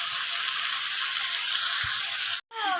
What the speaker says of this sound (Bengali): আর আদা কারি পাতা আর সর্ষে দিয়ে বেগুনটাকে আচ্ছা সে ভাজবে